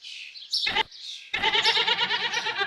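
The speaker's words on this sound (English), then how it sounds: "Goat." A goat bleats, with one short cry followed by a longer wavering bleat and light chirping in the background.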